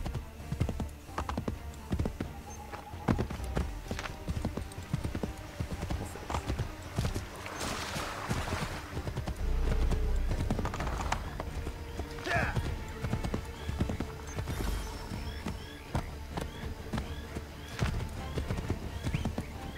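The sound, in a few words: horse hooves in a video game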